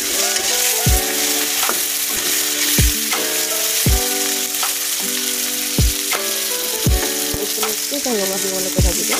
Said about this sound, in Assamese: ৰঙা দিবলৈকে ভাজিব।